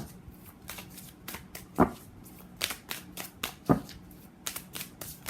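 Tarot cards being shuffled by hand, a run of crisp riffling bursts and flicks in an irregular rhythm, close and clear with no talking.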